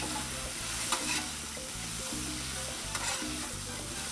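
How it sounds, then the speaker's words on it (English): Blood sausage (morcilla) being scraped and stirred on a Blackstone griddle, a spatula rasping repeatedly against the hot steel over a continuous loud sizzle, close up with no voices. "you want to scrape them off the bottoms, get that good brown gooey stuff off of there, and stir them up"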